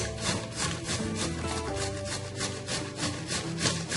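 Peeled zucchini rubbed against a grater for a cake batter: a steady, close, rhythmic rasping of quick repeated strokes throughout, with no voices.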